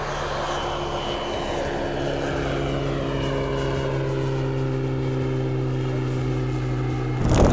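A Pilatus PC-6 Porter turboprop aircraft runs with a loud, continuous engine and propeller drone that holds steady throughout, alone with no voices, before swelling briefly at the end.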